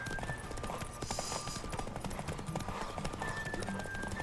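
Horse galloping in The Witcher 3 video game, a rapid continuous drumming of hoofbeats close and steady throughout, with faint game sounds in the background.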